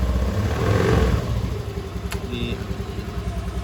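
A motorcycle engine idles steadily with a low, even rumble, close by and continuous, with faint clicks and handling noises on top.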